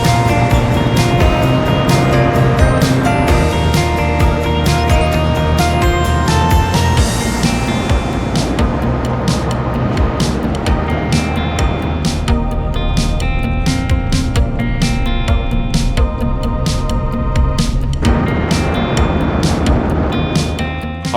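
A truck towing a trailer drives through a mountain tunnel in Zion, its engine a loud, steady roar with a broad rushing drone echoing off the walls throughout.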